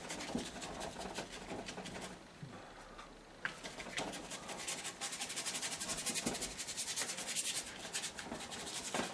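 Brush scrubbing acrylic paint across paper while painting a landscape, a steady close rubbing and sanding texture that runs continuously with small bursts of strokes.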